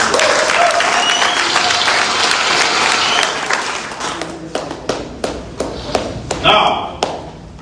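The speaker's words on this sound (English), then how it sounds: "And you must give yourselves a round of applause." A crowd at a political party presidential primary in Abuja applauds loudly, a dense wash of clapping that thins out into separate sharp claps and taps near the end.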